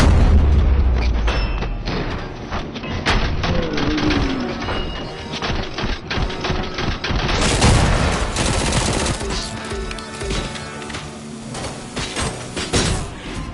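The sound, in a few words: machine gun and assault rifle fire in RoboCop: Rogue City video game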